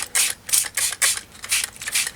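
Repeated short bursts of a spray bottle misting, about seven quick hissing pumps in an uneven rhythm, close by.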